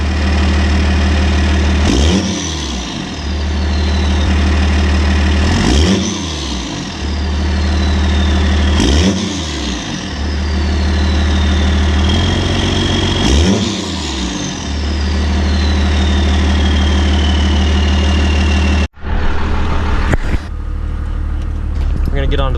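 A loud, close 12-valve Cummins diesel truck engine with a #0 fuel plate idles roughly and is revved four times in a steady rhythm, each rise and fall clearly audible, before cutting away.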